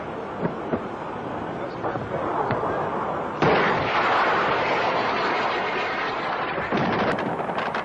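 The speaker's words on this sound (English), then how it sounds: "Two rockets are fired, chasing across the sky." Rockets launching and streaking across the sky with a loud rushing roar, a sharp blast near 3.4 seconds, then continued heavy rumbling and booming, loud and close throughout.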